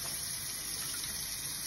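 Water is poured steadily as smoothie fluid is measured out, a close, continuous gushing pour with a bright splashing texture throughout.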